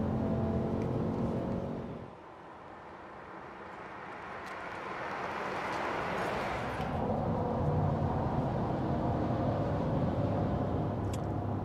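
A 2021 Ford F-150 pickup at full throttle, its engine noise rising steadily as it merges ahead of a box truck on a highway, loud and continuous from inside the cab with road roar underneath.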